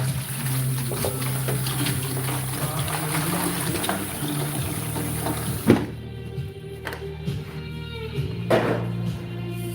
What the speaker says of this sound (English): I've got to add the water to these next two so that the water's done at the right mixture